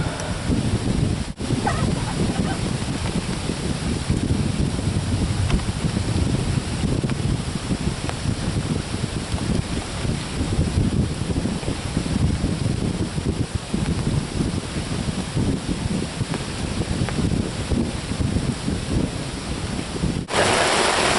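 Strong wind blows steadily across a lakeside campsite, a loud, continuous roar buffeting the microphone with rustling, sustained throughout.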